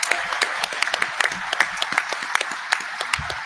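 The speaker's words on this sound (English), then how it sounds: "just want to give him a round of applause" A modest group applauds Craig Rubzinski at a Knighthawks lacrosse announcement, a fairly sparse, close clapping with distinct individual hand claps in an irregular rhythm over a few seconds.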